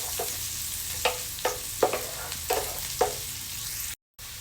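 Red onion sautéing in a pan for a creamy carbonara, a steady sizzle broken by about six sharp scraping stirs at regular intervals, close and alone, cut by a brief dropout near the end.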